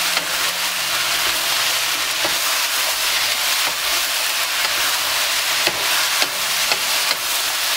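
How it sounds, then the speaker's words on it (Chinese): Rice being stir-fried with meat and vegetables in a wok after sugar, cooking wine and soy sauce go in, giving a steady broad sizzle with faint scraping stirs and a few sharp clicks of the spatula against the pan. "翻炒均匀。"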